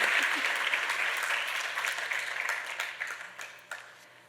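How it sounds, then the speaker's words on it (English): Audience applause after a dance performance at a Bharatanatyam arangetram, dense clapping from a hall full of people that gradually thins and fades over a few seconds, with scattered claps near the end. "let's give them one more round of applause for that tremendous performance."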